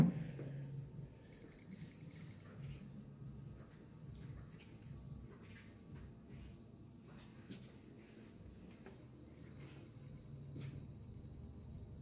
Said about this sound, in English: The EMF detector's alarm will go off when it picks up a high-frequency electromagnetic field.